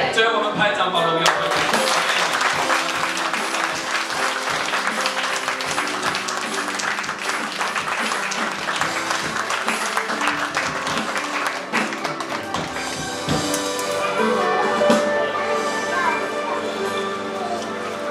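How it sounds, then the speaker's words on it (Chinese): A church congregation claps together after a prayer, a sustained wash of many hands clapping in quick rhythm that fills the room, with voices mixed in beneath it. "最后我们拍掌保荣耀。"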